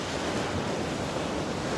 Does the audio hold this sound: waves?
yes